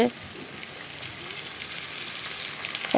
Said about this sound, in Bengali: তেলটা গরম হয়ে যাওয়ার পর আলুগুলো ঢেলে দেওয়া হয়েছে